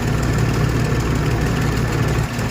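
A groundnut (peanut) thresher runs steadily, a continuous loud mechanical drone with a low engine-like hum and constant rattling vibration throughout, no voices.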